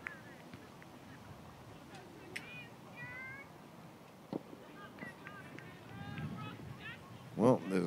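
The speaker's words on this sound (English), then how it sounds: "Well, there's a seagull in the background." A seagull gives faint, thin, scattered calls in the background, mixed with quiet outdoor noise and people talking nearby.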